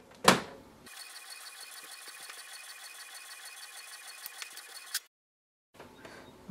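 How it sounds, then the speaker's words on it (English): An HP printer prints a 4x6 photo: a sharp mechanical click, then a steady whirring feed with small ticks for about four seconds, a clunk, silence, and the motor resuming, close up. "So just wait for the printer."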